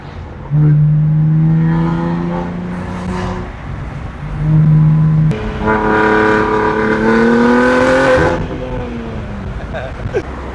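A BMW G80 M3 downshifts and revs hard, with loud rising and falling engine tones in distinct bursts, a sharp crackle midway, close to the microphone, as a person talks over it.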